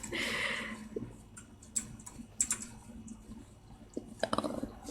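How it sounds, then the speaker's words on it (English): Loud computer keyboard typing during a game session, irregular clicks and clatter of keys, near and close-miked, with bursts of rapid keystrokes and no voices. "I'm sorry if my keyboard is so loud"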